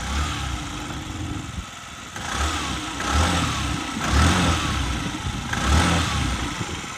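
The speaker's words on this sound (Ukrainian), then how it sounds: "Ну, Двигунчик працює повністю ідеально." A small Yamaha Jog SA57 fuel-injected scooter engine runs close by, its steady putter swelling in periodic gentle revs.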